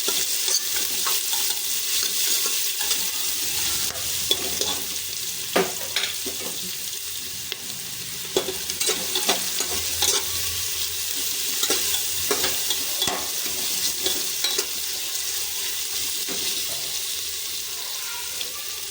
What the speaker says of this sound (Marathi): कांदा शिजवून घेणार आहोत.